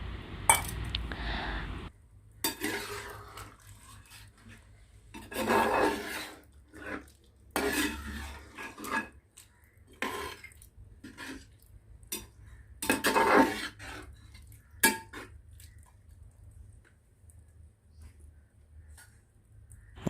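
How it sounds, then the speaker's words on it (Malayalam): Duck curry simmering in thick first-extract coconut milk is stirred with a spoon, giving intermittent clinks and scrapes against the pot in short bursts separated by quiet gaps, close by with no talking. "നല്ല കട്ടിയുള്ള ഒന്നാം പാൽ നമ്മൾ ചേർത്ത് ഇളക്കുക."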